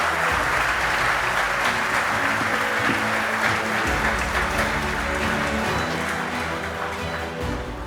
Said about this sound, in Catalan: Un aplaudiment per la marxa a Sant Pau i per la regata Forest.